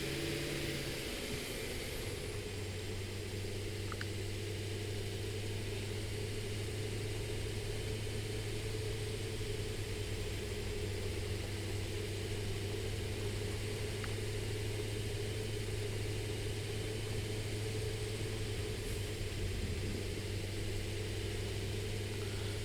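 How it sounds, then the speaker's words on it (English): A tractor engine in the factory-building game Satisfactory runs as a steady, unbroken low drone with a constant hum, loud and even throughout, with no talk. "Now I gotta hope the tractor can clear this."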